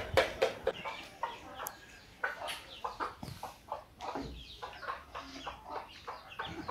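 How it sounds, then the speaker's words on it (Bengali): Chickens clucking nearby on a farm in short irregular bursts, with soft scratching and shuffling movement between calls, no talking. "এখানে হচ্ছে মুরগিরা মানে কিছু খাবার খাচ্ছে, কিছু আবার নড়াচড়া করতেছে, কিছু আবার ঘুমাচ্ছে"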